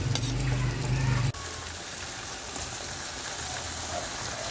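Butter sizzles and fries steadily in a pan while banana cream is cooked, giving a loud, continuous crackling hiss with a brief low hum at the start and faint talk in the background.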